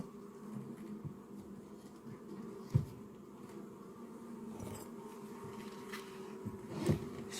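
Honey bees drone continuously around open hive frames, a faint, close, steady buzz with a couple of louder passes as single bees fly near.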